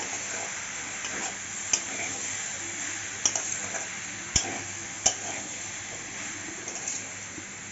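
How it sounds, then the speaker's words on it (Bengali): Cauliflower stem curry being stirred and fried in a pan with a steady soft sizzle, broken by a few sharp clinks of a spatula against the pan, with no voices. "ভালো করে কষিয়ে নিতে হবে"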